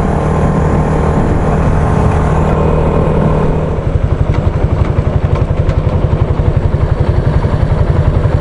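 A motorcycle rolling through busy city streets in Japan, a loud steady engine rumble with wind noise that settles into a rhythmic, pulsing idle partway through, as if stopping at a light.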